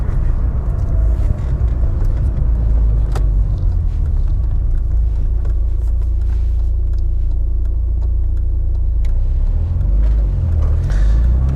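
Steady low engine and exhaust rumble inside a moving Mk2 VW Golf GTI 8v with a Milltek exhaust, with road noise and a few faint clicks, no talking.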